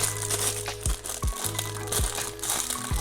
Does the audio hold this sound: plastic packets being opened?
yes